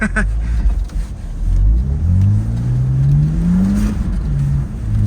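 A BMW Z4 E85 with the inline-six N52B30 engine revs and drifts on a snowy winter road, its rising and falling engine note steady and close, with road and tyre rumble underneath.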